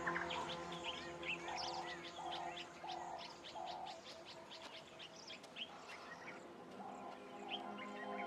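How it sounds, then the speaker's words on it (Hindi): A large flock of quelea birds gathering at sunset makes a dense, distant wash of chirps and twitters, with softer repeated coo-like calls running beneath it; the sound stays faint and unbroken throughout. "सूरज ढलने पर क्वेलिया पक्षियों का बड़ा सा झुंड एक साथ इकट्ठा होता है।"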